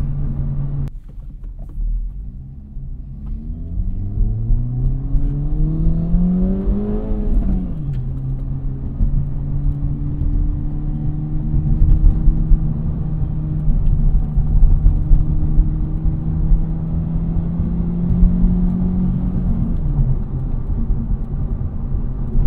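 An Acura Integra Type S with a manual shifter and clutch drives along, its engine revving up, shifting, then holding a steady drone close and loud from the cabin, with no talk.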